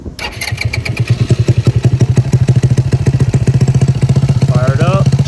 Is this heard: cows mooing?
no